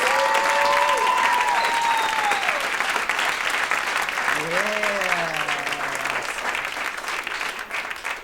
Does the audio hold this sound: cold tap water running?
no